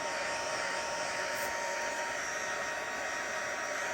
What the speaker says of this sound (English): So I will be using my heat gun, okay? I'll put it on low